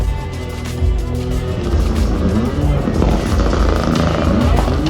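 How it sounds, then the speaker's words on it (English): Rally cars at Rally Estonia roar past at close range, their loud engines filling the air and shifting in pitch as they go by, with voices faintly under the din. "Oh, we can hear cars again"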